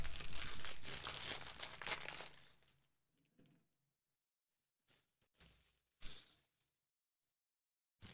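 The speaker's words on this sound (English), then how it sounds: "God, I love plastic bags." Plastic bag crinkling in short bursts while a Lego Game Boy set is unpacked: a dense, loud rustle for the first few seconds, then scattered brief crinkles separated by quiet gaps.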